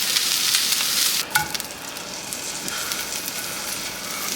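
Steady hiss and sizzle of potatoes, bell peppers, onions and garlic frying in bacon grease, loud and continuous, with a brief utensil knock partway through.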